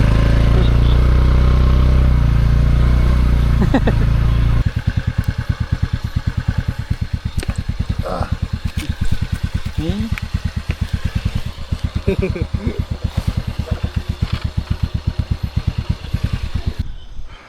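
A motorcycle at the Hulangala summit starts with a heavy, loud rumble, then settles into a steady, rapid idling putter close by for the rest of the time, with people talking over it.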